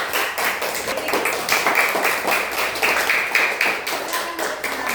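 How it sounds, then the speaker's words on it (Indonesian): Classroom applause from a student group, a brisk steady run of clapping hands with a rhythmic, slightly uneven pulse, close and lively throughout. "Beri tepuk tangan."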